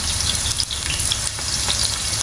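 Eggplant frying in oil in a pan, a steady loud sizzle with crackling throughout, no talk.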